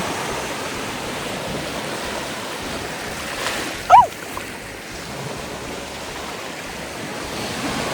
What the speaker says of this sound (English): So hands going in the ocean.